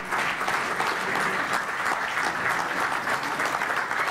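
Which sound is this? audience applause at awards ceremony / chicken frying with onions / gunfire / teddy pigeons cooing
audience applause at awards ceremony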